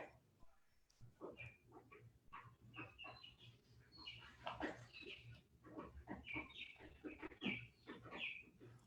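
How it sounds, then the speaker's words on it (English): Faint birds chirp in the background with a scatter of short, bright calls and trills, quiet and distant, with some other soft noises alongside. "I love the fact that I hear birds in the background"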